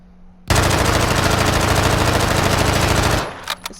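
A continuous burst of rapid automatic gunfire from hip-firing in Call of Duty DMZ, loud and unbroken for nearly three seconds before cutting off abruptly.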